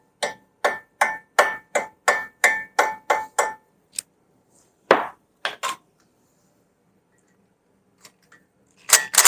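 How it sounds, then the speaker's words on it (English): A Renault Trafic front wheel bearing is knocked into place with about ten sharp, evenly spaced hammer blows, then a few scattered, irregular strikes after a short gap, all close and loud. "Let's give it a little knock in."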